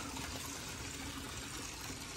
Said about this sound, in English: so the water gonna pump out, bypass the waterfalls out to my backyard